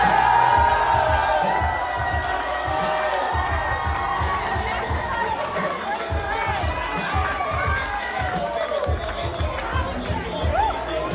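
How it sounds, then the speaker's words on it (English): A bar full of sports fans cheers and whoops during a Knicks Finals game commercial break, a dense, sustained roar of crowd shouting and chatter with children's shrieks mixed in, loud and continuous throughout. "This man has a bar full of sports fans cheering for a socialist."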